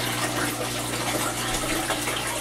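Water rushes steadily through an aquaponics bell siphon in an IBC tote system, a continuous loud gushing drain with a low pump hum beneath it.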